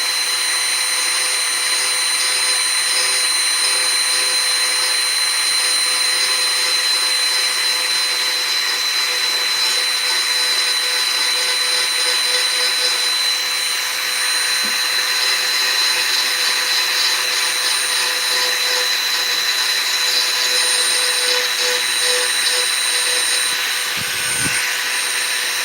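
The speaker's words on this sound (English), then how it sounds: "this engraver's kind of giving me a little bit of trouble here" Corded electric engraver working on a dresser knob, a steady high-pitched whine running continuously and loud throughout with slight wavering and no talk over it.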